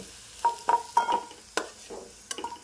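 Fried potatoes are lifted out of hot oil, a low simmering sizzle broken by several sharp scraping and clinking spoon strokes against the pan, close and distinct, with no talk.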